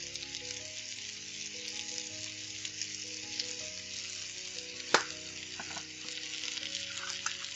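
Baby bella mushrooms sautéing in a pan, a quiet, even sizzle with faint background tones and one sharp utensil clink midway.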